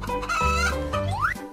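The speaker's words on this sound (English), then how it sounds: "chicken," Short cartoonish chicken cluck from a kids' animal-guessing motorbike game: a brief, bright, tonal call with a rising squawk near the end, alone and close.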